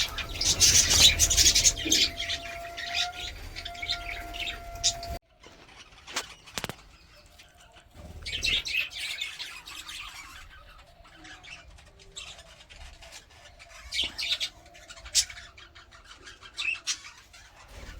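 Pigeons or doves nesting in clay pots on a rooftop, with squawks, coos and wing flutters, close and moderately loud at first, then sparser calls.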